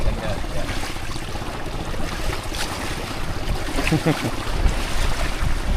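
A boat moves across water in strong wind, with constant wind buffeting, splashing and rushing water noise throughout, no clear speech.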